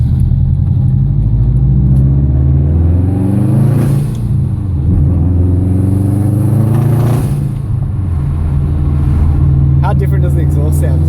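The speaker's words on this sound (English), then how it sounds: "How different does the exhaust sound too?" A 2011 Subaru WRX STI in sport mode gives a loud, continuous engine and exhaust drone with rising and falling revs, heard from inside the car while people talk over it.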